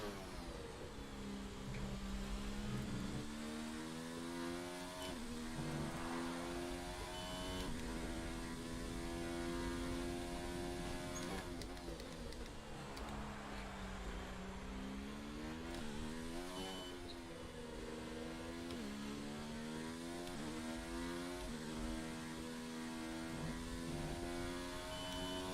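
A Formula 1 race car engine in a video game at the Australian Grand Prix screams loudly and continuously, its pitch climbing through the gears and dipping at each upshift, then straining repeatedly at the top gear.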